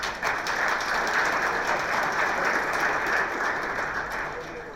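An audience claps for a school choir at an education policy forum, a dense, steady wash of applause that holds evenly throughout before easing slightly at the end.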